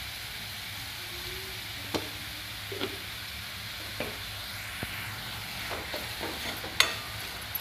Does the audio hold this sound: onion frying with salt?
yes